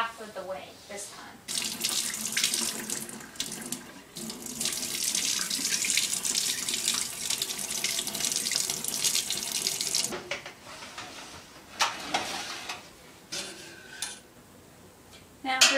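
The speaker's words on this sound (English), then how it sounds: "Now we're going to add some more of this hot water" Hot water gushes steadily from a tap into a sink for several seconds while making goat cheese, stops, then runs again briefly, with a few clinks of dishes and a spoon.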